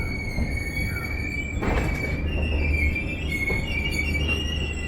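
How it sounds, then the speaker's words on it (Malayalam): The Yesvantpur–Kannur Express at Banaswadi station: a long rumble of passing rail cars with high, sustained wheel squeals drifting in pitch over the steady roar. "ഇതാണ് നമ്മുടെ ട്രെയിൻ, യശ്വന്ത്പൂർ കണ്ണൂർ എക്സ്പ്രസ്."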